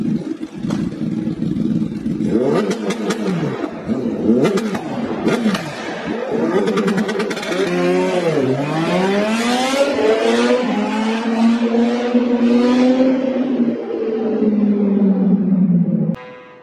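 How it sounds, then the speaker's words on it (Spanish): A combustion-engine motorcycle revs hard and continuously for about sixteen seconds, the engine note climbing, dipping and rising again through loud, close, sustained pitch sweeps with no talk over it. "El ruido generado por las motos con motor de combustión es especialmente molesto"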